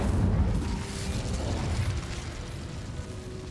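A fire spell cast in Hogwarts Legacy, a 2023 PS5 game: a loud whooshing, roaring burst of flame that fades into a sustained crackling rumble over about three seconds, with no voices.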